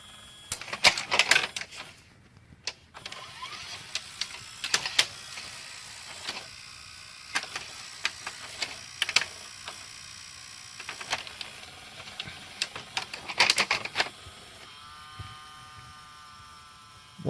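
A Funai VCR mechanism chewing up a tape makes repeated clicks, clacks and short whirring bursts from its motor and gears, close and irregular, with a faint steady hum between them and no voices.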